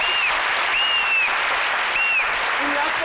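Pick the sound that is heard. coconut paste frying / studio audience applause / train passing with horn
studio audience applause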